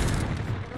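Rapid gunfire from a shooting video game, a dense, continuous burst of loud shots with no talk.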